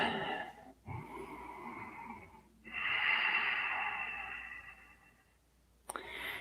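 Deep breaths during a stretching and balance exercise routine: a few long inhales and exhales, sighing and slightly wheezy, close up, with a short sniff-like snort near the end and no talking.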